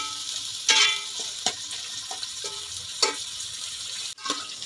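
Steady sizzling hiss of onions frying in hot oil, with occasional clinks and stirring bursts of louder crackle throughout.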